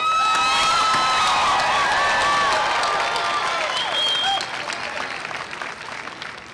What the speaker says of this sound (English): I congratulate you and applaud you.